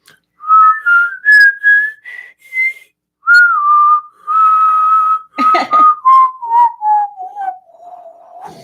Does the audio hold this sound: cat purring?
no